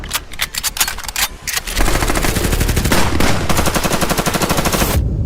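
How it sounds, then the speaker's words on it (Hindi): Several machine guns open fire together, starting with a few separate shots and then a loud, sustained rapid burst of gunfire that runs for several seconds and cuts off abruptly. "एक साथ कई मशीन गनों ने अपना मुंह खोल दिया।"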